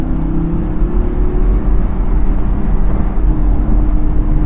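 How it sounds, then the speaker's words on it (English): An Audi R8 V10 Performance Quattro Spyder's engine drones steadily and loudly, a dense, even, low growl that holds for several seconds without a sharp rise or pause. "that engine is such a beautiful engine. The way it just picks up revs,"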